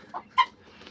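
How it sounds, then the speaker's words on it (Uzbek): Black chickens on a small farm in Andijan, Uzbekistan, young hens near laying age, about 30 to 40 birds, give a few short clucks close by, with a brief louder call in the middle and quiet gaps around it. "Ko'rishingiz mumkin, bu o'zimiz tovuqlar."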